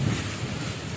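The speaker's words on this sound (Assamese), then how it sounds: "সৰিয়হখিনি ধুনীয়াকৈ মিক্স কৰিব লাগিব" Ground mustard paste stirred in a frying pan for a mustard fish dish, a brief, steady scraping sizzle, close and continuous, with no voice over it.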